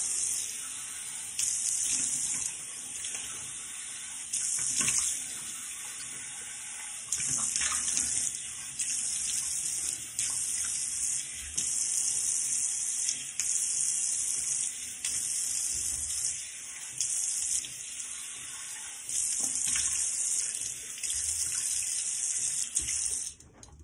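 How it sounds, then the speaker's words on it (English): Tap water runs into a sink while someone rinses their face after shaving, a steady close splashing rush broken by repeated brief dips as hands move through the stream. "I'm going to rinse my face."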